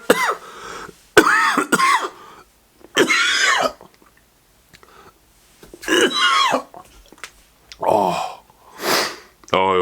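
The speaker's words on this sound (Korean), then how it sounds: "이 기침이 한 2주는 안 떨어지는 것 같아요." A man with a lingering cold coughs repeatedly, several harsh bursts and throat clearing spread across the stretch with quiet gaps between, close to the microphone.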